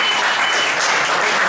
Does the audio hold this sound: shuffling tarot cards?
no